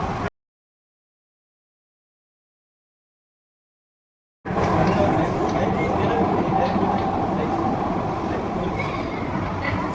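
A metro train rumbles steadily after a few seconds of silence, a continuous loud roar of wheels and carriage noise with faint voices underneath.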